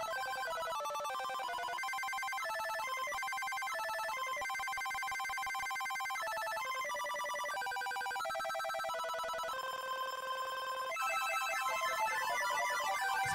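A cell phone rings with a bright, repeating electronic melody that keeps going in a steady loop for over thirteen seconds and grows slightly louder near the end.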